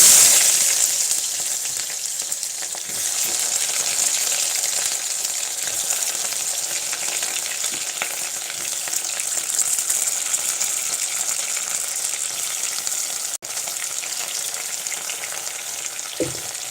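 Lotus stem (nadru) and potato pieces fry in hot oil for a Kashmiri nadru aloo curry, giving a loud, steady, dense sizzle that holds throughout with no talking.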